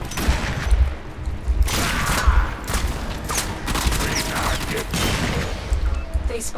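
Lex heavy pistol shots in the Warframe video game, fired as single loud bursts at irregular intervals over a dense bed of in-game combat noise and other gunfire.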